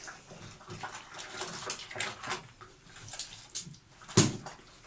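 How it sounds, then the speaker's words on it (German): Water runs into a home washing machine during its fill cycle, a steady hissing rush with scattered clunks and one sharp knock near the end; no one speaks. "Sehr toll Waschmaschine."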